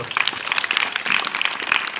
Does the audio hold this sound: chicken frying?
no